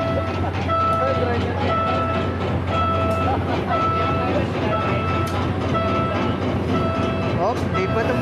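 A train rumbles past a Manila street crossing with a steady, dense roar and rhythmic rail clatter, while voices talk over it.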